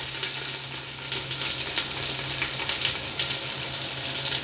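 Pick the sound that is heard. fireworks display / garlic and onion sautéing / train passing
garlic and onion sautéing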